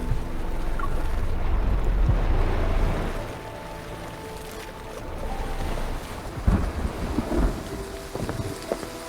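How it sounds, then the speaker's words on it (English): Heavy rain pours steadily with deep rolling thunder in a Love and Deepspace game scene by rising waves, a dense continuous wash at first that eases slightly, followed by several sharp nearby cracks and rumbles. "Before we know it, it's pouring."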